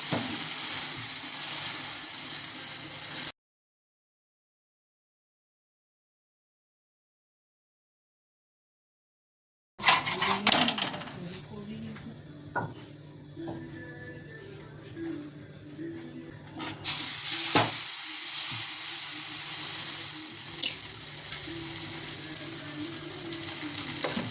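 Egg omelette batter frying and sizzling in a hot pan after a ladleful is poured in, a steady crackling sizzle with some scraping and stirring, briefly cut by a stretch of silence before resuming.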